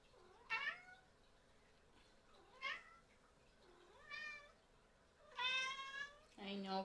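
A cat meows several times at a yoga class, with drawn-out, clearly pitched cries spaced a second or two apart that are quiet overall and rise to a longer, stronger meow near the end.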